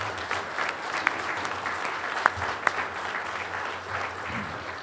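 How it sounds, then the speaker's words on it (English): Guests at an SBE awards dinner give a sustained round of applause for past society presidents, steady clapping with a few sharp louder claps standing out. "Please give all these past leaders of SBE a great round of applause."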